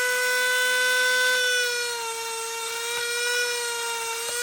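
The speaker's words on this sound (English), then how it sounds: "I can switch it on and off, right? That's how the Dremel works." A Dremel 300 rotary tool spins at high speed, giving a steady, loud, close whine with a bright tonal pitch that dips slightly and recovers, heard alone without talk.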